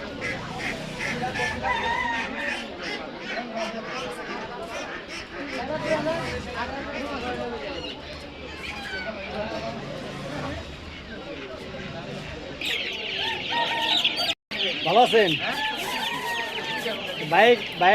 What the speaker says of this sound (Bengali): এই মোরগগুলি আজকে সাবার নামা বাজারে বিক্রি হইতেছে